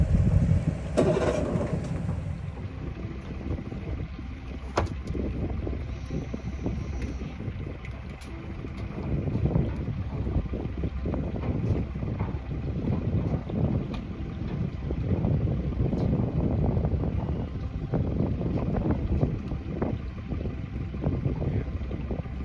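An outboard motor without carburetors drones steadily on Lake Okeechobee during a crappie fishing trip, a continuous low rumble with heavy wind buffeting the microphone and no voices over it.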